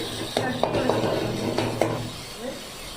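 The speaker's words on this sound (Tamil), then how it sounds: "நல்லா கிண்டி விட்டுட்டு" A spoon stirs chicken curry with mashed tomato in a pan, making a series of close, sharp clinks and scrapes against the metal over a soft, continuous sizzle.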